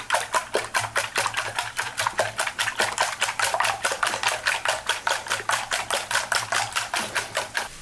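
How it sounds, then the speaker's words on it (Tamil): Eggs are beaten in a bowl with an egg beater, making a quick, regular clatter of rapid rhythmic strokes that carries on steadily and close by with no talking. "இதை நம்ம முட்டை அடிக்கிற பீட் பண்ணுற ஒரு இதுவால் பீட் பண்ணிக்கலாம்."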